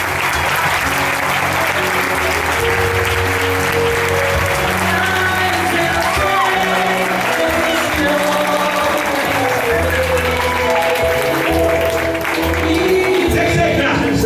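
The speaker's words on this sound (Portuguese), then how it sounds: "Oh, aplauso." A crowd applauds throughout a Pentecostal preachers' congress, the clapping dense and sustained, with voices mixed into the ovation.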